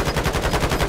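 Automatic gunfire in the Warzone video game, a rapid burst of evenly spaced shots with no pause, loud and close.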